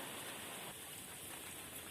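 Steady rain falling outdoors in Kryvyi Rih, a dense, even hiss of drops that stays constant and fairly faint throughout, with no voices.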